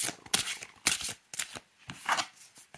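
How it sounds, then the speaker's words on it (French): A Ciro Marchetti tarot deck is riffled and shuffled by hand in several quick bursts of crisp, papery card flutters separated by brief pauses, close up and fairly soft. "c'est vraiment un jeu qui est fait pour être mélangé comme ça"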